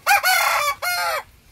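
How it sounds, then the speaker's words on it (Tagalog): A rooster crows loudly and close by, two long harmonic calls separated by a short break, with no talking. "Ang ingay ng manok."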